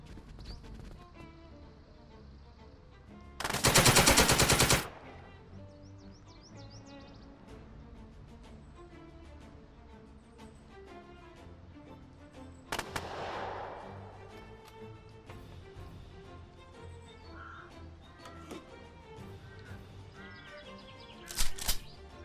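Gunfire in the hex-based tactics game Second Front, a single loud burst of shots followed later by a fainter crack and a short final burst, spread across an otherwise quiet stretch.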